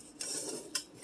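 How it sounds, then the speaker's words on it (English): A Dutch oven pot is grabbed and handled, giving a couple of close metallic clanks and scrapes against a quiet kitchen background. "Let's grab my Dutch oven."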